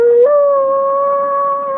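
A dog lets out a single sustained howl. It starts lower, steps up in pitch, then holds a long, clear, steady tone up close.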